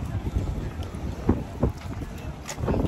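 Gusty wind in Atlantic City buffets the microphone outdoors with low rumbling bursts, and a voice can be heard faintly in the background.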